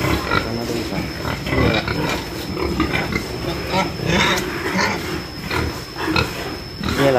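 A heavily pregnant sow being coaxed from her pen into a farrowing crate on a pig farm grunts repeatedly and close by, the grunts mixed with shuffling and scraping noise and continuous farm clatter.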